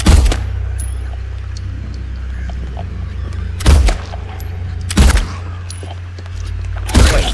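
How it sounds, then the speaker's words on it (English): Gunfire from the Silent Hill 2 Remake: three or four separate heavy shots spaced a second or more apart, each a sharp broadband crack with a low thump, set over a steady low droning hum. "I am shooting at him"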